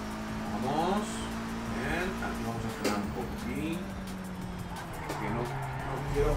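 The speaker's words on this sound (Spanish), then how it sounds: "ese derrape que miedo me ha dado" A car in a sim racing video game skids, its tires squealing over a droning engine note with falling pitch sweeps, while someone talks over the game sound.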